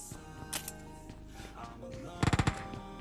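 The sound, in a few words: gunfight in video game PUBG Mobile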